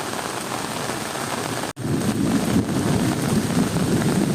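Heavy thunderstorm rain pours steadily and loudly in a dense, continuous roar, with wind buffeting the microphone; the downpour briefly cuts out for an instant, then resumes just as hard.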